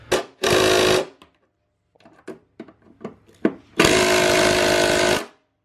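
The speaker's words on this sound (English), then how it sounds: "The 12-volt Milwaukee is not busting these loose." A 12-volt Milwaukee impact tool hammers in two loud, sustained rattling bursts against stubborn star nuts on a Ski-Doo MXZ 800 snowmobile, with faint clicks and knocks between them.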